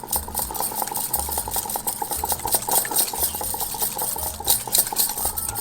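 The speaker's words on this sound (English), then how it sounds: "So I'm just going to blend both the ingredients well." Curd and refined oil are whipped together for an eggless cake batter, giving a close, steady mechanical whir with a rapid pulsing rattle and no pause.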